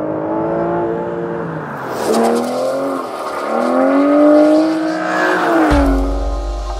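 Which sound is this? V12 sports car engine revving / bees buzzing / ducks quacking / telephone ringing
V12 sports car engine revving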